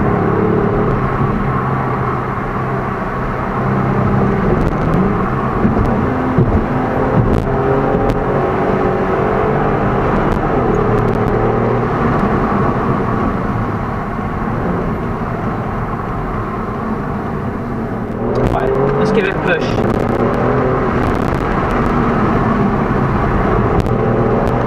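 A Kia Stinger GT-S drives on warm tyres as its rear kicks out, the engine note loud and continuous with shifting whine and roar, and a burst of sharper noise late on.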